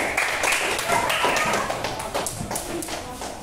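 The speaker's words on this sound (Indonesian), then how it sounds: "tepuk tangan untuk kelompok Indas" Classroom applause for a student group after a presentation, a short burst of close, fairly loud hand claps from a small group with scattered taps and a voice in the background.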